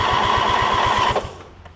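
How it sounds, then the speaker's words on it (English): A car engine cranking over on a portable jump starter's boost, a fast even starter-motor chug with a whine on top, close and loud, cutting off abruptly after about a second. "we're just going to try and crank it over here"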